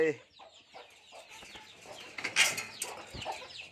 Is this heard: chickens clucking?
yes